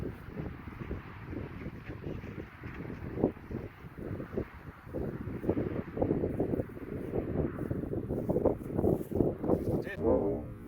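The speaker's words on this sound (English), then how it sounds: "Wind's coming across, right to left." Wind gusts across an open disc golf course, a steady rumbling buffet on the microphone that swells and eases, with someone talking over it.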